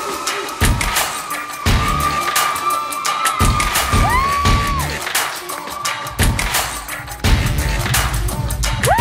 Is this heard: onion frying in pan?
no